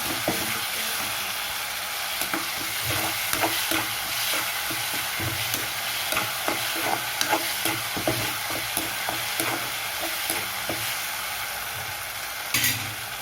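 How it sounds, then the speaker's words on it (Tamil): Steady sizzling and frying of ginger and garlic in a pan, with frequent scraping and stirring clicks from a spatula throughout; no voices. "இப்போ இஞ்சி பூண்டு போட்டுக்கலாம் இஞ்சி வாசனை போகிற வரைக்கும் கொஞ்சம் வதக்கி வச்சுக்கலாம்"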